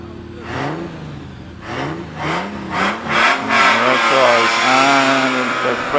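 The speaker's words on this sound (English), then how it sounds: "supercharged machine of Dominic Hendel in the Lancia Aurelia single-seater" The supercharged Lancia Aurelia single-seater pulls away from the Prescott hillclimb start line, its engine rising through a run of sharp revving gear pulls that grow louder and rougher as it gets underway, with a commentator speaking faintly beneath.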